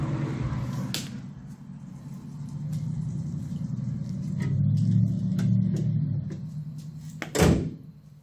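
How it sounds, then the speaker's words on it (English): Car hood swung shut with a single solid thud near the end, heard over a continuous low rumble of background noise and a few small clicks and knocks. "I'm actually gonna close the hood"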